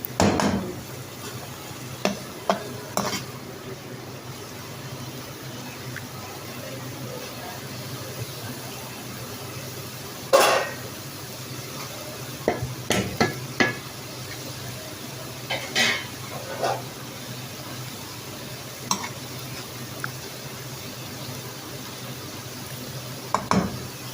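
Mash daal being stirred and roasted over high heat in a pan, a steady low sizzle with frequent scraping clicks and clinks of a spoon against the pan, no talking.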